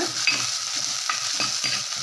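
Oil sizzles steadily and loudly while small shallots fry and are stirred in the pan for a curry, with occasional soft scraping clicks and no talking.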